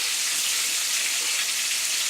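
Fish sizzling in hot oil in a pan, giving a continuous bright crackling hiss, close and even, with no voices.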